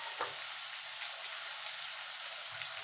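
Potatoes frying in oil produce a continuous quiet hiss that stays even throughout, with no voices.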